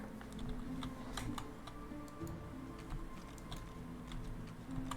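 A computer keyboard is typed on in quick, light, irregular clicks during a game session, fairly close and with no talking.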